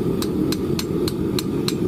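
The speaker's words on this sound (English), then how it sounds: "I was able to hammer it off amazingly" Six evenly spaced hammer strikes ring out against metal, sharp and regular, knocking cast aluminum off a permanent metal mold, over a steady low rumble of background noise.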